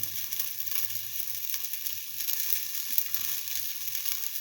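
Shallots sizzle steadily in a hot pan, a continuous fine crackling hiss with faint scattered pops, close and moderately quiet, no voices.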